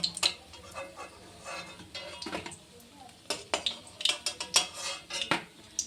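A metal utensil clinks and scrapes against a pan in irregular taps up close, lifting fried chhanar jilapi pieces out of oil, with a faint sizzle underneath.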